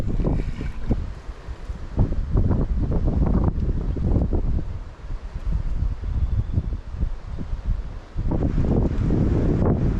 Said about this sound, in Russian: Сегодня дует ветер.